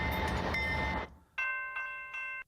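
NS 8520 locomotive hauling Roadrailers on the Detroit Conrail Shared Assets route: a loud, close rumble cuts off, then three tonal horn-like blasts follow in quick succession.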